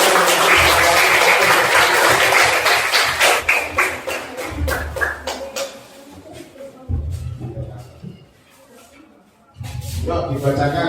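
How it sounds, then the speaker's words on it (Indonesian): A class of pupils claps for a presenting group, with a burst of quick, uneven applause that fades and then returns under voices talking in the room. "Tepuk tangan dulu untuk kelompok enam."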